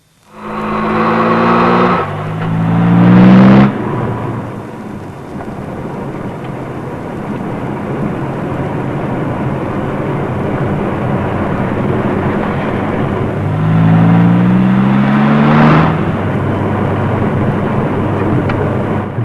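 A car with a driver at the wheel in a Hindi-dubbed South Indian movie scene, its engine loud and close, revving up with rising pitch twice over a continuous rushing road noise, with no talking.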